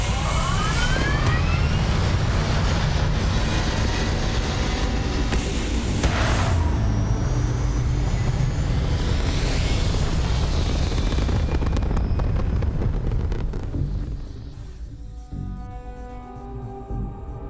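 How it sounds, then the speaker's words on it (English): Spaceship thrusters in Starfield fire as a loud, sustained, roaring rumble with rising whines and swooshes, which then drops to a quieter hum as the craft settles toward orbit. "All thrust is firing."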